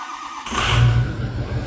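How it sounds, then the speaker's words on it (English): A Ford 6.0 Powerstroke diesel engine in a truck catching and firing up after a brief crank, settling into a loud, rough rumbling idle close by. "Just listen to how much better this one runs, or the fact that it does run."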